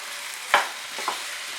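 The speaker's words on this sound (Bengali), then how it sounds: "ভেজে রাখা আলু আর ফুলকপি দিয়ে ভালো করে মশলার সঙ্গে কষিয়ে নেব।" Fried potato and cauliflower are tossed with spices over raised heat in a pan. A steady crackling sizzle carries one sharp spatula scrape and a lighter scrape later, close up and with no voices.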